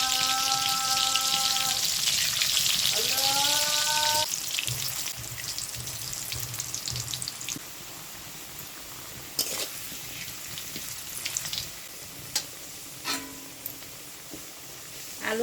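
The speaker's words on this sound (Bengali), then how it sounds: "এখন একটা আলু ভাজে নেই।" A potato sprinkled with a little salt fries in oil for a homemade chicken biryani, a soft sizzle and scattered pops following a brief tonal sound at the start.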